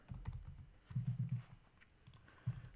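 Quick keystrokes on a computer keyboard, a few close, soft clicks in short clustered bursts with brief pauses between them.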